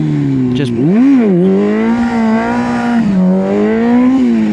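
A motorcycle engine revs hard and swings up and down in pitch as the rider lifts into a wheelie, loud and close, with a brief voice over it.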